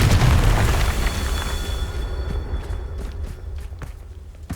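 Fire blast spell cast in the Hogwarts Legacy video game: a loud, low booming burst at the start that rumbles and slowly fades, followed by a few faint scattered crackles.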